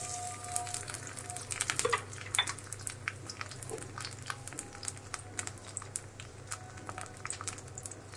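Bay leaf, onion and cumin fry in a pan with a steady soft sizzle, quiet and close, with scattered light clicks and scrapes of a utensil against the pan.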